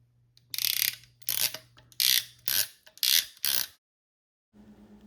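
A Duratec PEX crimp tool ratchets through several loud, rapid bursts of clicking, close up, followed by a short pause and a softer low mechanical whir.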